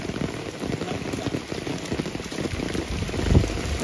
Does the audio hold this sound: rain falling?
yes